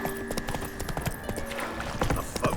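Roach the horse galloping in The Witcher 3, close rapid hoofbeats in a driving rhythm over steady ambient noise, with a faint tonal hum underneath.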